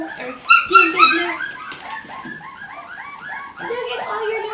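Several puppies that have escaped yip, bark and whimper close by, with shrill overlapping cries early on and softer whining yelps continuing afterward.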